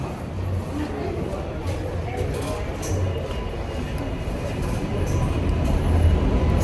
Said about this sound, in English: as the subway rolls down the track